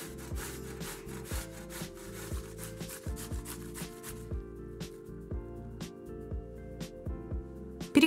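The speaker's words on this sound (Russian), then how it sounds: "Сперва натираем кабачки на крупной терке." Zucchini grated on a coarse grater, a steady run of rhythmic rasping strokes, close and fairly loud, with no voices.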